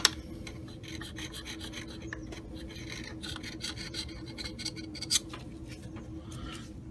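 Old gasket material is scraped lightly off a metal differential housing on an R200 differential. The close, steady rasping strokes continue throughout, with a brief louder scrape near the end.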